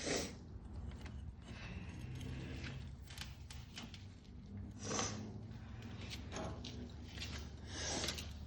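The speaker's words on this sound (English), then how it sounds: "I'm tightening the head studs by hand right now." Head studs on an RM 250 motorcycle engine being tightened by hand during a top end rebuild, soft faint rubbing and metallic scraping with a few light clicks.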